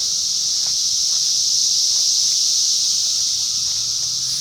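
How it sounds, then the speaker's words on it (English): A loud, continuous high-pitched buzzing drone of cicadas in a residential neighborhood, steady and unbroken throughout, with faint rustling underneath. "you can hear those cicadas all"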